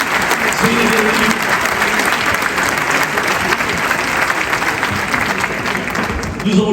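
An audience at a French business conference applauds the Prime Minister and ministers with loud, sustained clapping and a faint murmur of crowd voices underneath, holding steady to the end.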